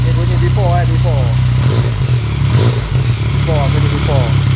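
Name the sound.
motorcycle with stock exhaust revving, before new piping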